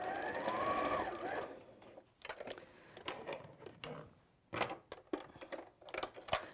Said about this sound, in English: just sew straight across the end